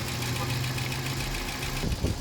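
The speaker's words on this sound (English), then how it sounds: "That ticking is sound a little bit loud. Car should tick, it should have an injector tick or something" An Audi A4 engine idles nearby with a steady, rapid injector ticking running through a low, continuous hum, and a voice briefly cuts in near the end.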